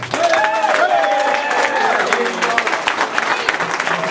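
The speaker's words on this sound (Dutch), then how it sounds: "Ik wil graag een groot applaus voor Feiko." Loud, sustained audience applause fills a hall at a Frisian CD presentation, with scattered cheering and a voice carrying over the clapping throughout.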